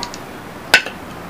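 A spoon stirring sharbat and a spoonful of powder into a glass of water gives one sharp, bright clink against the glass, faint traces around it in an otherwise quiet room.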